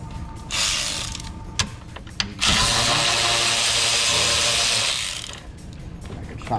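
A ratchet working fasteners loose on a 2021 Jeep JL during a cold air intake install, a brief click first, then a loud, steady three-second run of rapid ratcheting up close.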